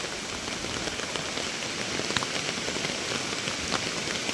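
Floodwater of a village river in spate rushing hard over a submerged bridge, a dense continuous hiss and roar with scattered sharper spatters, steady and fairly loud with no voices.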